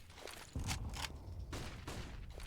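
Counter-Strike gunfire and a grenade blast on the Dust 2 map during a tournament match, a burst of rapid shots with a heavy thump and scattered distant firing, all fairly faint.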